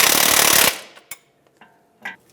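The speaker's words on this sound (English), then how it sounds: "And with a 19mm socket, we'll go ahead and tighten that up." A crankshaft vibration damper bolt on a 2007-2013 Acura MDX is tightened with a 19mm socket: a loud, steady mechanical burst lasting under a second, followed by a few faint scattered clicks and knocks.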